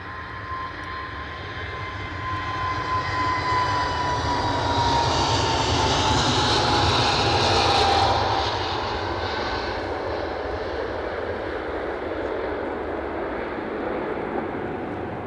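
A jet airplane at Edinburgh Airport roars steadily for the whole stretch, a broad, loud engine rush with a whining tone that swells toward the middle and then eases slightly as the aircraft moves.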